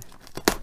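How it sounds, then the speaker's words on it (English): Blade slicing open a mailbag package: one quick, close tearing rip of packaging material, short and crisp. "I'll just make a random cut."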